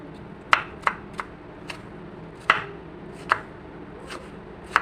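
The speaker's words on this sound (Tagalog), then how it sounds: "Hiwain natin ang pipino." A knife slicing cucumber on a cutting board, about ten crisp, evenly spaced chops at close range over a faint background hum, with no talking.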